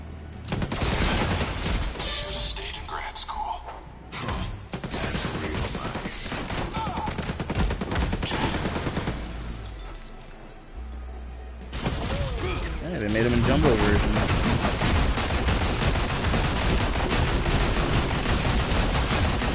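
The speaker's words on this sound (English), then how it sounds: "Gunshots and fire." Bursts of gunfire and explosive blasts pile up in a Marvel Heroes Omega battle, loud and nearly continuous with a brief lull midway, while a player talks over the action.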